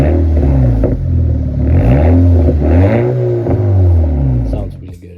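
Nearby, a petrol car fitted with an aftermarket exhaust revs hard several times. Each rev rises and falls in pitch, giving a loud, throaty rasp, before the engine settles back toward idle at the end.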